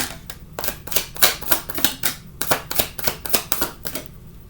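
Tarot cards are shuffled briskly, giving a rapid run of sharp, crisp snapping and flicking bursts in an uneven rhythm, close and fairly loud, with no voice.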